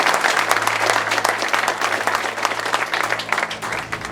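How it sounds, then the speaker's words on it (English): A crowd applauds an aerobatic team's performance at an airshow, steady dense clapping sustained throughout with a low constant hum underneath. "That deserves a round of applause."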